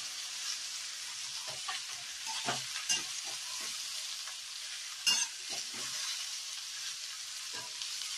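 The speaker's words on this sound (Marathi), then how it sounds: "अशा प्रकारे आपण तेलात पूर्ण परतवून घेतली भाजी" Okra stir-fried in hot oil gives a steady, moderately loud sizzle, with a few soft scraping stirs of a spoon in the pan and no talking.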